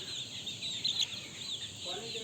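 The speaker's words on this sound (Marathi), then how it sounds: "हा आमचा कोंबडा आहे आणि ही कोंबडी आहे" Rooster and hen on a desi poultry farm clucking softly amid a steady background hum, close to the listener.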